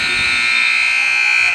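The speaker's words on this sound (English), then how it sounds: "Oh, almost after the buzzer." A basketball arena buzzer sounds at the end of the first half of a college men's game, one loud sustained electronic tone held through the whole moment with crowd and commentary noise beneath.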